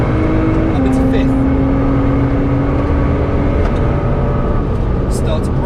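Race car engine at Cadwell Park pulling hard after an upshift into fifth gear, a loud steady drone with a tone that steps up and then climbs, under continuous in-car talk.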